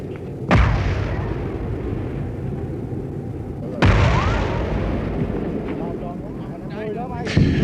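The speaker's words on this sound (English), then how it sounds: "it was difficult at times to distinguish between the enemy mortar fire and our own close support artillery" Vietnam War mortar and artillery explosions: three heavy booms, close and loud, with long rolling rumbles in between, over outdoor combat noise with faint voices.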